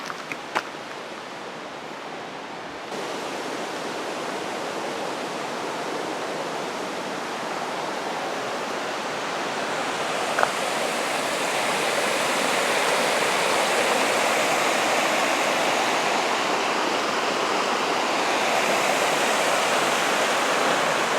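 A low-running river in the White Mountains gives a steady, broad rushing of water, loud and continuous throughout with no voices.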